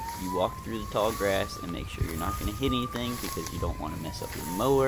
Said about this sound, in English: I'm sorry about the sirens you hear in the background.